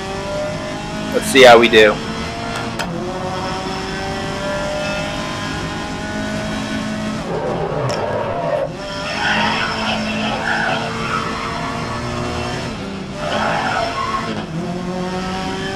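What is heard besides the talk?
race car driving a qualification lap in the video game GRID 2019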